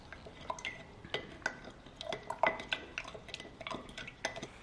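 Spoon stirring sugar into freshly brewed black tea inside a glass jar, giving repeated light clinks and scrapes against the glass at an uneven pace, close by with no talking.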